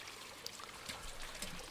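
Rainwater spills from an overflowing water butt into a garden pond, a soft, steady trickle and splash that stays faint and distant throughout.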